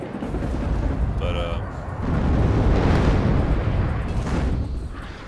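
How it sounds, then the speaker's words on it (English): A bombing run in the video game WARNO sets off a heavy, continuous rumble of explosions that swells midway and stays loud, with a brief high whistling tone early on. "that bombing run was not so good."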